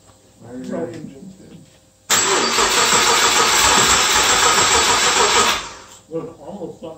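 An EG33 swapped engine running Megasquirt3 cranks and fires on its first start, a loud rough burst lasting about three seconds before dying away, with people talking before and after it.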